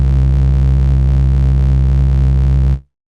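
A steady, buzzing synthesizer tone holds one low pitch with a faint wobble, then cuts off abruptly.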